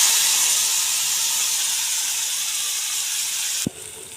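Mustard seeds, cumin, asafoetida and ground paste sizzling in hot oil for misal, a loud steady hiss that drops sharply near the end as something is added.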